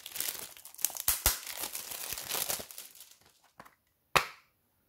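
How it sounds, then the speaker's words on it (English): Plastic shrink wrap on a Nintendo Switch game case is cut and peeled away, giving close, crackling crinkles and sharp snaps that thin out and stop, followed by one last crisp crackle. "Let me just cut the plastic off carefully."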